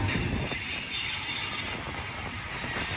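A BNSF eastbound intermodal freight train rolls past, a steady broadband roar of wheels and cars on the rails with faint metallic squeal, close and continuous throughout without talking.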